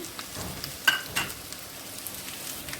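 Curry leaves hit hot oil in a pan, giving a sharp burst of crackling spatter over a low continuous sizzle that then settles, close and without speech.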